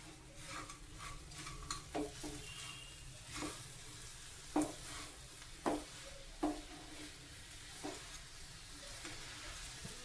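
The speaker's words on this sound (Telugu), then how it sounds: "బెల్లం వేసుకున్నాక ఇలా బాగా కలిపేసుకోవాలి." Carrot and beetroot halwa fries quietly in ghee as jaggery is stirred in, a soft steady sizzle with intermittent scraping and clinks of a spoon against the pan, faint and close.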